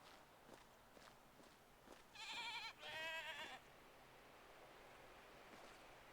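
Goats in the video game Mundaun give two drawn-out, wavering bleats back to back over a soft, constant wind-like hiss, with faint knocks before them.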